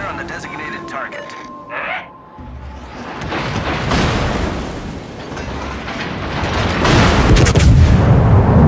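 World of Warships gameplay aboard the Soviet battleship Oktyabrskaya Revolutsiya, whose main guns fire with heavy, rumbling booms that build into loud, sustained roaring blasts after a radio-style voice speaks.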